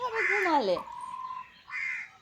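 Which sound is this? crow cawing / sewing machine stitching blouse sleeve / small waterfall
crow cawing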